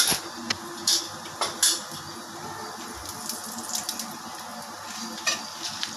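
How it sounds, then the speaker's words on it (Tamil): Mustard seeds crackle and pop in hot oil in a kadai for paruppu rasam, a close, busy sizzle with sharp, irregular bursts of spluttering. "கடுகு பொரிஞ்சிடுச்சு"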